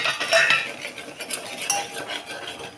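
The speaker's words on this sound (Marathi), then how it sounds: "आता ह्याच्यामध्ये सर्व जिंजर टाकून देऊ." Ginger being tipped into a pan with a little oil while a spoon clinks and scrapes against the metal cookware, producing close, bright, irregular clatter without any talking.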